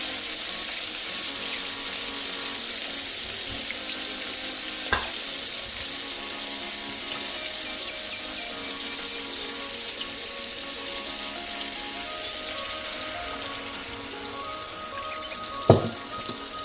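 Two roughly chopped tomatoes frying in a pan, a steady bright sizzle throughout, close and even, with a couple of sharp utensil knocks.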